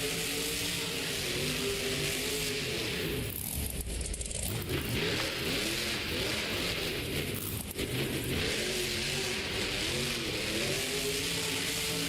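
Monster truck engine at the Monster Jam World Finals, revving loud and continuous with rising and falling pitch sweeps, heard across a large arena with no talk.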